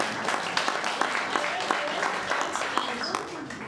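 An audience at a book presentation applauds with brisk, irregular clapping, crisp individual claps standing out over the crowd noise throughout.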